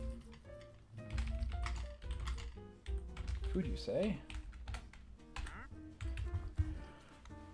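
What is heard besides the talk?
typing on a computer keyboard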